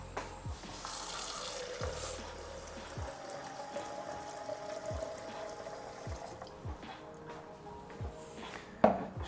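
Water running from a kitchen tap and pouring for polenta made with milk and water, a soft steady flow with faint trickling, quiet background music, and a sharp clack near the end.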